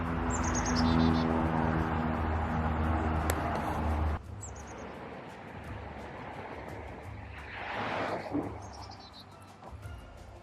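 Carolina chickadee calling at a Florida pond at sunrise, several brief high chirping bursts scattered through the clip, moderately faint against a broad rushing ambience like distant surf or traffic.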